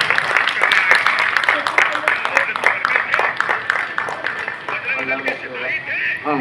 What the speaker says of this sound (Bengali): একটা জোরে হাত তালি প্লিজ।